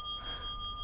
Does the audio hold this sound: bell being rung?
yes